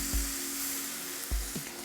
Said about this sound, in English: listen for that sizzle.